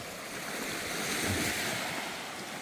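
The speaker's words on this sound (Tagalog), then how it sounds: "Ito po ang karagatan namin dito." Ocean surf at a rocky seashore, a steady broadband wash of waves with wind buffeting the microphone, continuous and fairly loud with no voices.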